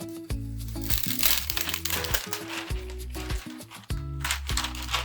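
Backing is peeled off an iron-on art patch, making continuous close crinkling and crackling of plastic film with some low thumps, loud and busy throughout.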